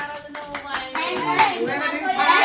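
Handclaps ring out at a family New Year gathering among siblings, quick and close amid lively overlapping chatter and children's voices.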